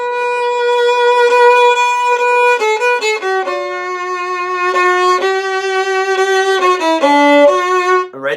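Violins and viola play measures 39 to 44 of a piece as a string ensemble, with steady bowed notes shifting pitch in a lively, rhythmic line, heard alone without talk.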